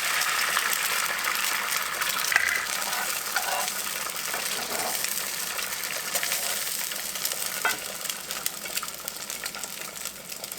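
Eggs frying in a Scanpan nonstick pan, a steady soft sizzle and crackle that runs without pause at a fairly quiet level, with a few faint clicks and no voices.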